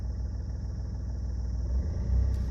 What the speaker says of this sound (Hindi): अब मैं यहाँ पे हल्की सी रेस दूंगा